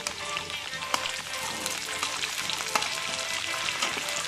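Tomatoes fry with garlic and ginger in a hot pan, a steady close sizzle and crackle with occasional soft scrapes and taps from stirring.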